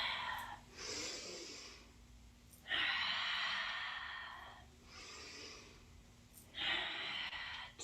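Slow, deep breaths during a yoga vinyasa flow, alternating long inhales and exhales in a steady rhythm, close and fairly quiet with no talking.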